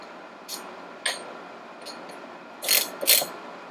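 A nut is tightened on the flywheel shaft of a 1959 Harley-Davidson XLH, with anti-seize on the threads, giving a few sparse, sharp ratchet-like clicks spaced over a few seconds, the last two louder and closer together.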